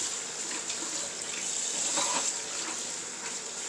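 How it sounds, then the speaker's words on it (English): Running tap water pours steadily over soaked salt cod in a kitchen sink, a soft, even splashing hiss at low level with slight surges, and no voices. "Just you want to rinse it one final time."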